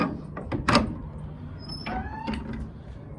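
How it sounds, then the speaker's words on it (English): A greenhouse door being opened, with a sharp rattle and clunk of the latch followed by a sliding scrape and a faint squeak as the door moves, close by and fairly quiet. "open the door up, go in here a little bit."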